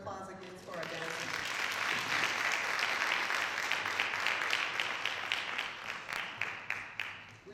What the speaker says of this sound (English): Can we have a round of applause again for our dancers?